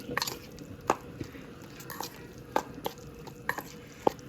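Soft, irregular clicks and light scrapes of a utensil stirring a mixture with coconut oil in a bowl, close and quiet, with several sharper taps spread across the moment.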